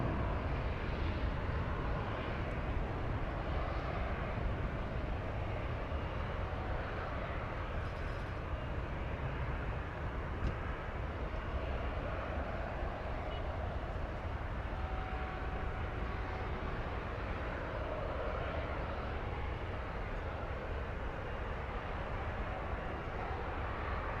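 A plane taking off from runway 18 left at DFW Airport gives a steady broadband roar that stays constant and somewhat distant across the whole span.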